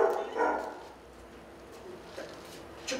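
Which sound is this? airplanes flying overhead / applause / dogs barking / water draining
dogs barking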